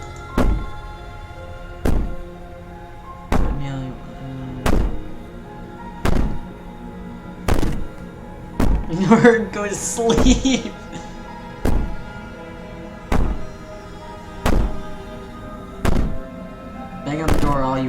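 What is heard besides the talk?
banging on a door in video game Slay the Princess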